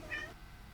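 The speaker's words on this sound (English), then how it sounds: "and gives a meow." A cat gives a single short, fairly quiet meow that fades out, with low background noise and no talking.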